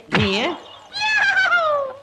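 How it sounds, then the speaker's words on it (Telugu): A cat in a Telugu comedy scene lets out one drawn-out, wavering meow, clear and close, right after a short burst of someone speaking. "పిల్లి ఏడుస్తోంది లల్లి."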